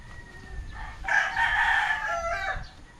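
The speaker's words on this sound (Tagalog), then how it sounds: "ang ganda ang laking manok, parang pabo." A large gamefowl rooster crows once nearby, a loud drawn-out cock-a-doodle-doo rising over faint background noise.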